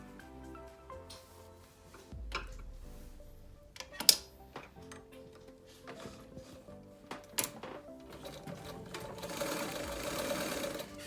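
Sewing machine stitching fabric for a baby girl's skirt, with short bursts of rapid mechanical clatter between pauses, close and fairly quiet, plus a few sharp clicks and a longer run of stitching near the end.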